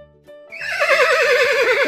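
A cartoon horse gives one long, loud whinny with a shaking, wavering pitch that runs to the end. It follows a short musical tone in a children's animal-sounds game.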